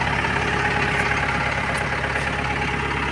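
A new tractor's engine idles steadily nearby, a constant low chugging drone with no talking.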